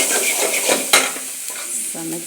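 Food is stirred fast in a pan on a stove, with a spoon scraping and clattering against the pan in quick strokes over a steady close sizzle of frying.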